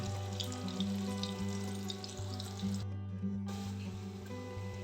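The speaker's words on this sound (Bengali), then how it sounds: "এটা লো টু মিডিয়াম হিটে এটা ধীরে ধীরে ভাজতে হবে" Jackfruit seeds fry slowly over low to medium heat in a pan, producing a soft continuous sizzle with a steady low hum beneath and a brief dip partway through.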